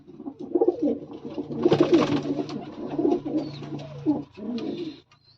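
Racing pigeons in a loft give close, rolling coos in overlapping bursts, swelling in the middle and fading out at the end, with no speech.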